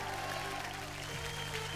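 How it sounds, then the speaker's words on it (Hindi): Applause from a television comedy show's studio audience: dense, continuous clapping that fills the whole short stretch at steady loudness over a low hum of music or crowd. "तो चलिए एक बार जोरदार तालियां हो जाए"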